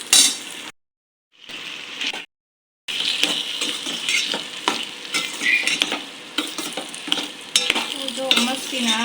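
Cooked rice is stirred into peas and potatoes in a hot tawa for veg pulao. A dense sizzle and frying hiss carry on under busy spatula scrapes and metallic clinks. The sound drops out briefly twice near the start.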